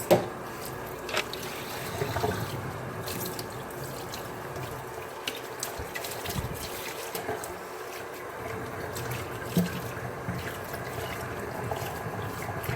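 Running water rinsing shampoo out of a raw Indian human-hair wig unit, a steady low splash and trickle with occasional drips and handling noises, close and without speech.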